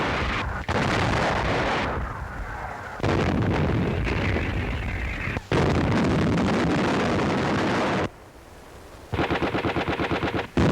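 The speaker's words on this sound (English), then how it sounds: "Even the tanks serve as artillery." WWII battlefield barrage of artillery and tanks firing as artillery, with heavy booming blasts and rattling machine-gun bursts in dense, overlapping waves, loud and close, broken by brief lulls before fresh volleys.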